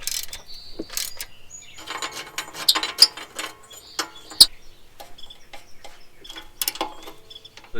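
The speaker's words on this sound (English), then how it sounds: "Let's torque this guy to 53 foot-pounds." A torque wrench tightens a transmission bolt to 53 foot-pounds on a 1988 Toyota Van, giving a series of sharp mechanical ratcheting clicks and ticks in irregular bursts, close and moderately loud with no talking.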